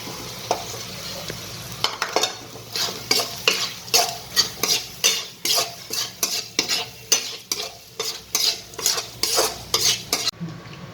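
Rhythmic scraping and stirring of paneer in a sizzling pan, repeated strokes about every half second, close and clear, with no voices.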